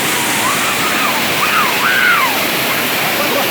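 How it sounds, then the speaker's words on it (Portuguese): Steady, loud rush of a waterfall fills the whole stretch, with faint bird-like chirps briefly above the roar. "Como é que tá achando a cachoeira nesse exato momento, Inácio?"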